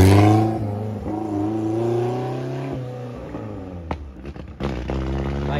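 A Honda Civic built for speed at a supercar event revs hard from a launch, a loud rising engine note held for several seconds, then cut by sharp clattering bursts and pops near the end.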